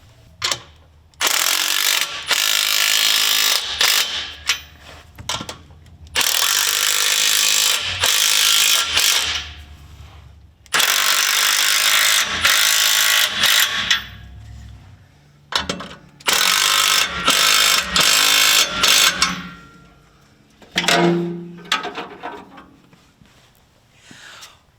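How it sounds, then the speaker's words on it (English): A hand ratchet with a 5/8 inch deep socket tightening exhaust band clamps on a Jeep Gladiator during a Dynomax exhaust install, loud rapid clicking in repeated bursts separated by short pauses, close up and without speech. "switching now to a 5/8 inch deep socket, I'm gonna go ahead and tighten up all the band clamps all the way to the back"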